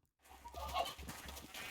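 Turkeys clucking in modded Minecraft, a short burst of fowl clucks and squawks over a low steady drone, moderately loud and close.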